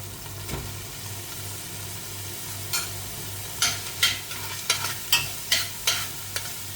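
Onions are fried in fish oil for a hammour broth, with a low steady sizzle throughout and a run of rhythmic scraping stirs in the second half, close and moderately loud.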